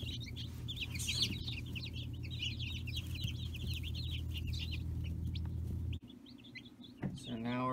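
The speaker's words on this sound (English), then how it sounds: "So now we got 60 chicks" Dozens of chicks cheep in a brooder with rapid, overlapping high peeps over a steady low mechanical hum, followed by a short, louder rustle near the end.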